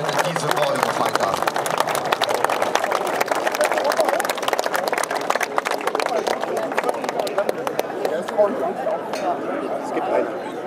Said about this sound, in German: Ich bitte um einen kräftigen Applaus für die